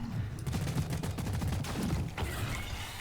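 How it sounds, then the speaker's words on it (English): Gunfire rattles in rapid bursts at the Lithophage Corruptor in Deep Rock Galactic, a fast string of close, punchy shots that pauses briefly near the end before resuming. "Now you can also just keep shooting the Corruptor like this"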